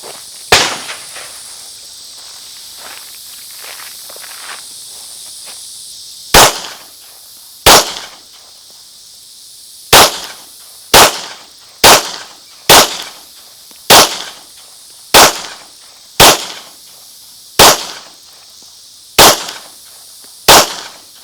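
Pistol shots fired with a Vortex Venom red dot sight, fourteen or so sharp loud reports at irregular intervals, mostly one to two seconds apart after an early pause, with quiet ambient noise between.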